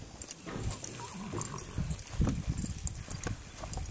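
Heavy draft horse hooves stepping and shuffling on the ground nearby, irregular thuds at a quiet level.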